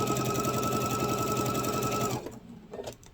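Sewing machine stitching a fabric grocery bag, a steady close rapid whir of needle strokes for about two seconds, then stopping abruptly with faint handling rustle after.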